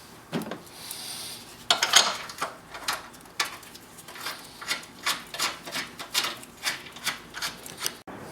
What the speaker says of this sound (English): I'm using a pry bar to move everything into place a little bit better